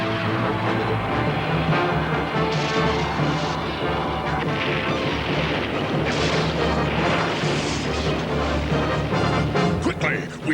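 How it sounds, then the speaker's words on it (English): A torpedo is fired and explodes in a 1985 Action Force cartoon, heard as a loud crash and booming blast within a dense, continuous mix of dramatic music and effects. "Fire torpedo!"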